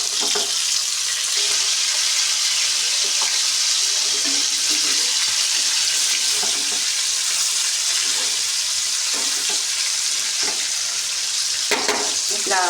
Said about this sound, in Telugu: ఇట్లా ఫ్రై చేసుకుందాం